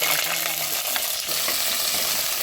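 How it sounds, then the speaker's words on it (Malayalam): Ivy gourd is sautéed in a pan of hot coconut oil after mustard seeds have spluttered: loud, close frying sizzle with stirring scrapes and clatter against the pan, and no voices. "അപ്പോൾ നമ്മൾ കോവയ്ക്ക് ഒന്ന് വഴറ്റിയെടുക്കാനാണ്"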